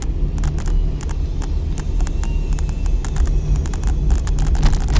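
A car engine hums steadily and fairly loudly at a crossing, with the drone holding throughout and faint rhythmic clicks or ticks layered over it.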